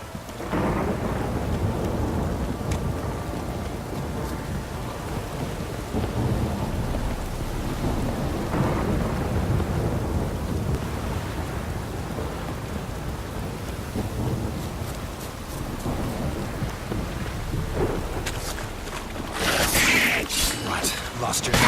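Heavy rain and rolling thunder in the video game The Witcher 3: Wild Hunt, a dense continuous downpour with deep rumbles throughout and a brighter crackling burst near the end.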